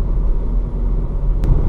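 A 2018 VW Golf Variant Highline engine runs as a deep, loud, steady rumble close by, with a low throb that holds throughout.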